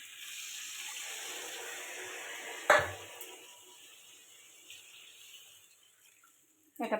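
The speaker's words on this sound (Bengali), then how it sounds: "কষানো হয়ে গেছে, এবার জল দিয়ে দেবো" Water poured into a pan of sautéed egg and potato curry, a steady hiss of frying and pouring that cuts off with a brief splash and clatter, then quiets to a low simmer.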